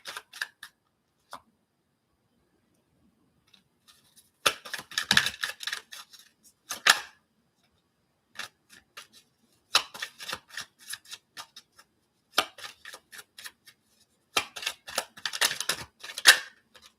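Tarot cards are shuffled close up in several separate bursts of quick crisp riffling and slapping, with short silent pauses between them and no talking.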